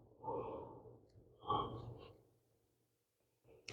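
Slow, deep breaths during a yoga strength series for the legs and hips: two long, soft inhale-exhale sweeps up close, followed by a quiet pause.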